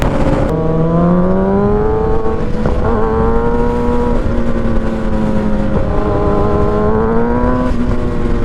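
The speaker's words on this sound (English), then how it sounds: "The M4 exhaust, I guess, is just like super loud, but it sounds so good." A stock motorcycle fitted with a loud M4 exhaust revs in long, rising and falling pulls, loud and close, with a steady engine drone and no speech.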